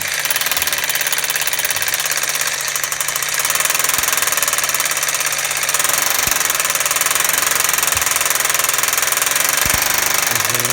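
A Bosch GHB 4-32 crank-and-piston rotary hammer drill chiseling concrete in hammer-only mode, a loud, continuous rapid pounding with harsh rattling that stays close and steady throughout, with no talk over it.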